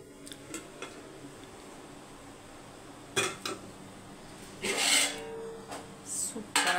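A dum-sealed pot of meal maker (soy chunk) rice is opened with a few metallic clinks and scrapes of a lid and spoon against the pot, followed by brief bursts of rustling stirring, close and fairly quiet.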